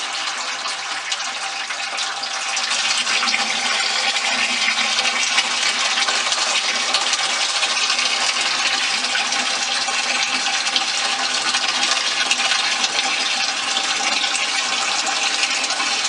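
Water siphoned out of a reef aquarium during a water change, a loud, continuous rushing gush that holds steady from start to finish without pause or talking.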